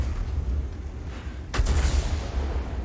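An FV304 self-propelled artillery gun fires in a video game, one heavy boom rolling out over a loud, rumbling engine background.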